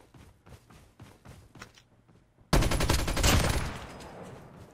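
RPD machine gun firing in a mobile battle royale shooter, a few footsteps first, then a sudden loud sustained burst of rapid automatic fire that continues to the end.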